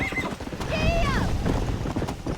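Galloping horse hooves clip-clop steadily in Red Dead Redemption as a horse lets out a rising, wavering neigh, with background talk and game sounds around it.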